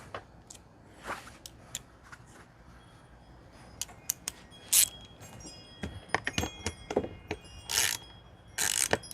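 A ratchet wrench loosening 10 millimeter bolts holding a Club Car DS golf cart seat: sparse, close clicking and metallic ratcheting in short irregular bursts, with quiet gaps between.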